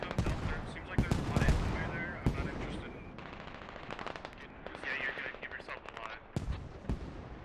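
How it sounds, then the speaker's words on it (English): In a video game battle involving WPMC light infantry, a mortar barrage and gunfire rage: heavy blasts and rattling automatic bursts come in uneven clusters, loud and near, with a faint voice underneath at times. "Mortar barrage hitting biochem."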